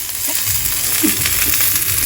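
Zucchini pieces frying in an already oiled pan, giving a steady close sizzle and hiss with a few soft stirring bumps throughout.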